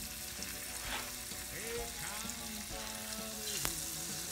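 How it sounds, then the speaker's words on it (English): Butter melting in about a quarter cup of oil in a pan on medium heat, a steady soft sizzle and crackle with small popping bursts, faint and close. "So you're going to melt the butter."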